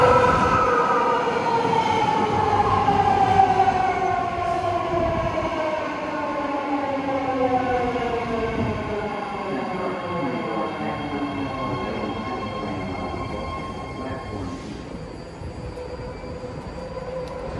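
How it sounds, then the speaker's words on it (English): A 10-car BART Fleet of the Future metro train bound for Dublin/Pleasanton rolls into a station, its motors whining in descending tones as it slows, with rumbling wheels and a faint chime near the end. "here comes a 10-car, 3-door Dublin Pleasanton train, the fleet of the future Blue Line."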